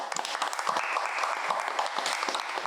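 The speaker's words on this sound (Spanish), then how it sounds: "Vamos a darle un fuerte aplauso a nuestro Señor Jesucristo" A crowd applauding: dense, steady clapping from many hands throughout, close and lively, with no voices over it.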